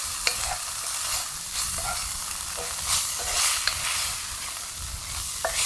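Sausage frying in oil on a camp stove outdoors, with a constant close sizzle and occasional sharp pops and scraping stir strokes throughout, no talking.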